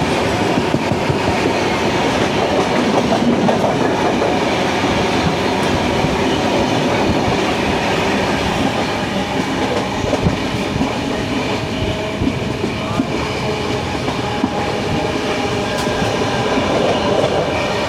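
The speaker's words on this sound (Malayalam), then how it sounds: "ഈ പോകുന്നതാണ് കൊച്ചുവേളി, തിരുവനന്തപുരം നോർത്ത് ശ്രീഗംഗാനഗർ എക്സ്പ്രസ്." Kochuveli–Sriganganagar Express train passing near Munroe Island station on an Indian railway line, a loud, steady rumble with continuous clickety-clack of wheels over rail joints, close by, with no talk.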